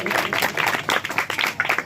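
A crowd at a Ramdev Pir seva camp in Rupal village breaks into dense, lively applause to welcome a guest. The clapping is steady and close throughout.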